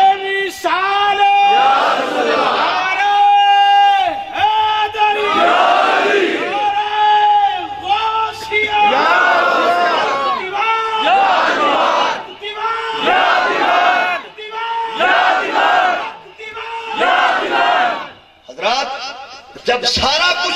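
Large crowd at an Urs gathering shouting the takbir, Allahu Akbar, as a battle cry in loud, repeated rhythmic call-and-response surges, close and powerful, with a leader's voice between chants.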